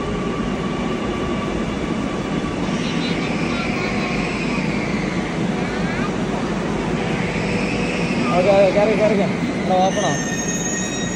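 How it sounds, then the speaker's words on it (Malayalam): Kochi metro train running, with a steady rumble of wheels on rail and rising squeals and whines as it moves, heard from inside the carriage while a voice briefly speaks. "എറണാകുളത്ത് ഫസ്റ്റ് ടൈമാണ് മെട്രോയിലുള്ള റൈഡ്"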